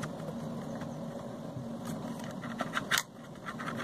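A jammed drone motor is turned slowly by hand, giving faint, sparse mechanical clicks and scrapes over a quiet room hum, with a slightly sharper catch near the end.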